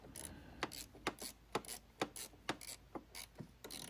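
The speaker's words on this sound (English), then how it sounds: "So I use my 12mm socket and tighten down the two nuts." A 12mm socket wrench ratchets as it tightens nuts on a Honda mower, giving a faint, close series of regular clicks about twice per second.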